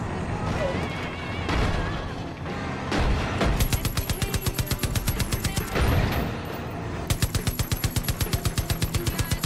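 Cannons on the Widowmaker in Far Cry 5 fire in rapid, evenly spaced bursts of loud gunshots, with a chaotic mix of game noise and blasts before the steady rhythmic volleys take over.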